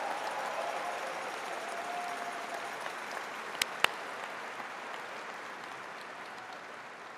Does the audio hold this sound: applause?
yes